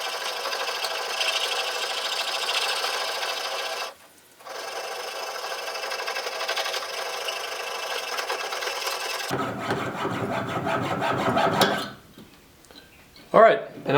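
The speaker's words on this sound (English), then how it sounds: "here I've got the guard threaded onto my jeweler's saw, and I'm just going to start connecting the drill holes" A jeweler's saw rasps back and forth cutting between drilled holes in a knife guard, a steady close scraping with a short pause near four seconds, then lighter irregular strokes and knocks toward the end.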